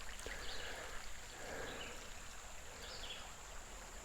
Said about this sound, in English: these are streams that are coming out of a holler, you know. I mean, they're coming straight off of a mountain